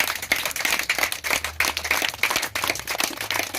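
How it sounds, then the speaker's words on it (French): Children clapping together at a church evangelism gathering, a steady run of sharp, overlapping claps that carries through the whole moment at moderate loudness. "On applaudit pour lui."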